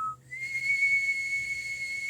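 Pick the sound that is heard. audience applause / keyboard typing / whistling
whistling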